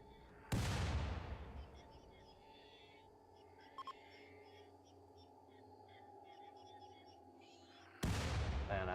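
Gunshots in the colony game Rimworld: two loud, booming shots about seven seconds apart, each with a long decaying rumble, and a faint clicking between them.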